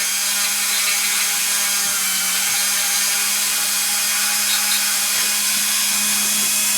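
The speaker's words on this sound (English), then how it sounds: "now you're going to cut it like a little slice in it" A small high-speed rotary dental tool whines steadily and continuously as it cuts a slot into a denture tooth, close up and loud with no pauses.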